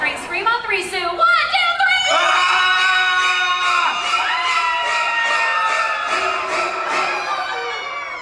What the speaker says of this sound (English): Scream on three, Sue.